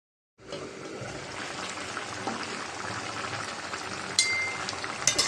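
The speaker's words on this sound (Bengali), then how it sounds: "তরকারিতে বলক এসেছে" Fish curry with snake gourd, potato and tomato bubbles steadily in a pot, a continuous soft simmering hiss with a few sharper pops near the end.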